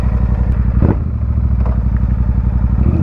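Motorcycle engine idling after a warm-up, a loud, close, steady chugging clatter with a brief rise in revs near the start, no talking.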